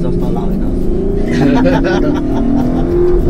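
A Lexus LC 500 Convertible with a legal exhaust revs on a hill climb, a loud engine note rising and holding beneath a passenger's excited talk and laughter inside the car.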